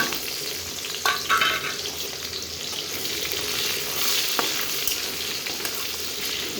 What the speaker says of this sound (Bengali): ভেজে নেব পেঁয়াজগুলো